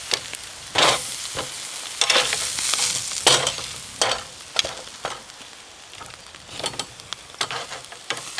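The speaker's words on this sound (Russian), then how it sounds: "Смотрите, как оно кипит, это мясо." Argentine-style asado beef ribs cooking, with a steady frying sizzle underneath and repeated sharp crackles and pops bursting out at irregular intervals, close and fairly loud, with no talking.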